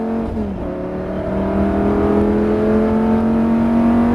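A race car engine revs up steadily at full throttle on a circuit at Nogaro, with a rising whine, close and loud, holding a strong tone as it accelerates.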